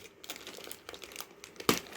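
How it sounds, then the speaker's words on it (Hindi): Polythene wrapping crinkles and rustles as it is pulled off an Ahuja DMX44 effect processor during unboxing, with close, irregular crackles and one sharper crunch near the end. "इस पॉलीथीन को मैं हटाऊं, उसके बाद आपको मैं बाकी चीज़ें दिखाता हूं।"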